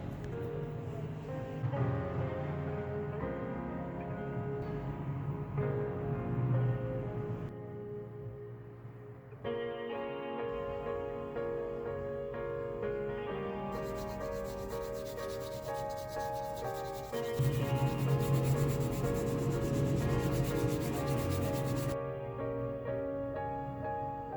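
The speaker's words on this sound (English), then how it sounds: "We soften the edges of the work with 400 grit sandpaper" The edges of a handmade leather glasses case are sanded with 400 grit sandpaper: steady, continuous rubbing strokes that run close and clear for over twenty seconds with short changes in pace.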